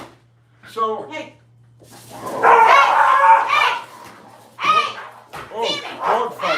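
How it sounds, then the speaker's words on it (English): Dogs fight with loud bursts of barking and rough snarling, up close and overlapping with people's voices. "Oh, dog fight."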